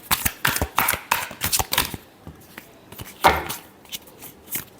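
Tarot cards shuffled by hand in a run of quick papery riffles and slaps, several bursts close together, then a pause and a few softer flicks and taps, with no talking.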